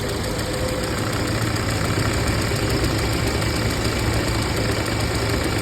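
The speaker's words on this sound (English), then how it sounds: "So now I'm turning on AC, and let's see, the fan is turning on." The AC cooling fan on a VW Jetta spins up amid a steady, loud mechanical drone and hum of the idling car, continuous and unbroken without any voices.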